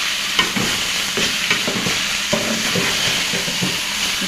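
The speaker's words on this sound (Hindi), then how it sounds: "फिर इसमें हम डालेंगे कीमा, इसको ज़रा सा चला लेंगे।" Minced meat (keema) fries in a pan with onions, chillies and spices while being stirred, a loud steady sizzle broken by rhythmic scraping strokes, close up and with no talking.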